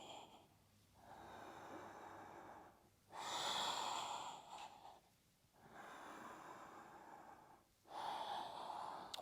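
Deep, audible breaths during a postnatal yoga core exercise, with long inhales and exhales alternating in a slow, steady rhythm, close and soft, with no talking.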